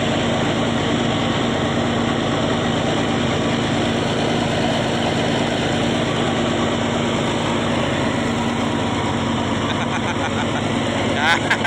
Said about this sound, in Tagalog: i-adjust lang nila yung makina. Kunting adjust na lang yan.